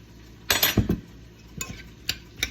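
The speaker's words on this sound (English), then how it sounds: "And we're just gonna stir and chop" A utensil stirs and chops guacamole with minced garlic in a bowl, a quick cluster of clinks and scrapes followed by a few sparser taps, close and fairly quiet.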